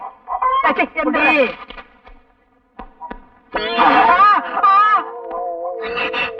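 Chickens cluck and squawk in bursts at close range, loud and uneven with a short lull midway, while people talk at the same time.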